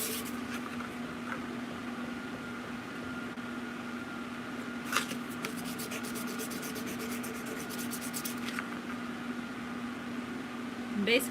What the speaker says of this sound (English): Get some of my sandpaper here and do the same.